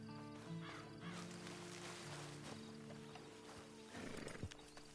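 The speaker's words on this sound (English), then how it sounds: "And you better get on this horse." Horse sounds from the video game Red Dead Redemption 2, with snorts and a whinny over a steady bed of game music and ambience, swelling near the end.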